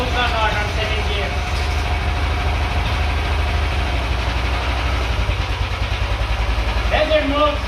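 A dune buggy engine runs steadily with a deep, low idle-like drone as the buggy is tried in second gear on a first test ride, loud and continuous, with someone speaking over it.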